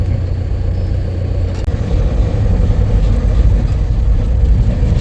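Road traffic in Bhiwandi rumbles steadily as heavy engine drone, probably heard from inside a transport truck, with a loud continuous low roar and a brief bump partway through.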